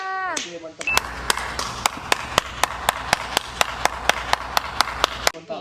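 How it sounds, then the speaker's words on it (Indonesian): A group claps hands in a steady, even rhythm, about fifteen sharp claps close by, with a brief voice and noise before it starts. "tepuk tangannya semuanya"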